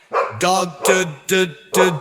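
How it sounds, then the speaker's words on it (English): A dog barks four times in quick succession, loud and close, with short pauses between each sharp bark. "D is for dog"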